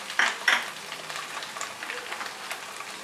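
Diced onion dropped into okra frying in a pan, two quick clattering drops followed by a soft, steady sizzle with light scraping and stirring, close by.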